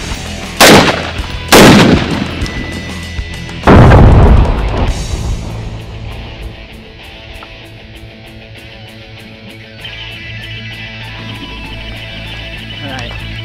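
Gunshots fired at lanterns during a 4th of July celebration: three loud, sharp cracks spaced about a second or two apart, the last with a longer booming tail, followed by quieter background noise.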